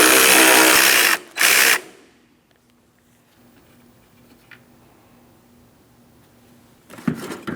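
A power tool spins out the last mounting bolt near the coolant reservoir of a 2003-2007 Cadillac CTS 3.6L V6, two loud close whirring bursts in quick succession, then near silence, then another short burst at the end.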